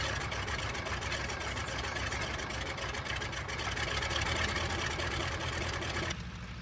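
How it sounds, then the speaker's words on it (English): Stearman biplane engine warming up at idle, a steady close rumble with a rough, pulsing low drone that holds constant before dropping away near the end. "I'm just getting my engine warmed up."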